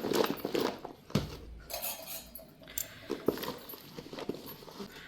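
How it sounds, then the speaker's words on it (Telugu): Green chillies being stirred into buttermilk in a metal vessel, giving irregular clinks and scraping knocks of utensils, close and moderately loud with quiet gaps between strokes. "ఒకసారి కలుపుతాం మొత్తం"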